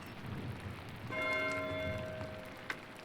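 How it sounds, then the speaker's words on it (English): Steady rainfall in the medieval-styled video game Pentiment, a soft continuous hiss that runs throughout, joined midway by a sustained bell-like chord and a single sharp tick near the end, with nobody talking. "God, give me the strength to endure the rain."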